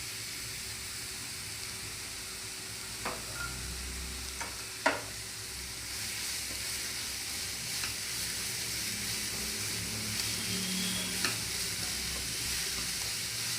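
Fenugreek leaves stirred and fried in a pan for an avalakki and fenugreek dish: a soft, steady sizzle with a few sharp spoon-on-pan scrapes, fairly quiet and close, with no talking.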